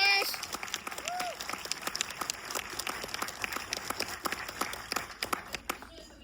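An audience in a movie theater applauds, with dense steady clapping and scattered cheers that fade toward the end, and a voice briefly rises above the crowd.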